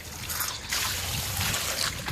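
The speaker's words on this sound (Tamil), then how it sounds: "எங்கள் மாடியிலேருந்து தண்ணி போத்தா ஊற்றிட்டு இருக்கு" Rainwater pours down from a rooftop terrace, a close, steady splashing and trickling rush that stays fairly constant, with no voices over it.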